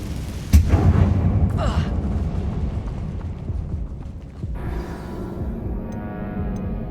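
A Confringo fire spell explodes in Hogwarts Legacy, a sharp boom followed by a rumbling, crackling tail of blast and debris with game ambience underneath.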